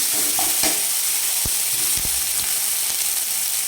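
Mustard, poppy seed and green chili paste frying with ripe tomato give a loud, unbroken sizzling hiss up close, with a few sharp knocks and scrapes from stirring.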